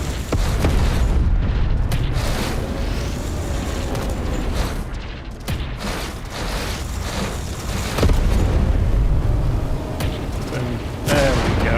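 Thermal gun fire in the space shooter Everspace 2, a dense, continuous roar of booming blasts and rumbling bursts, loud and close, with brief dips between volleys.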